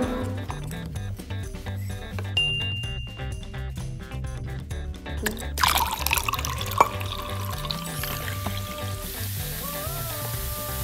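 Water poured into a toy during an unboxing, a splashing, running pour that comes in partway through over background music, close and moderately loud.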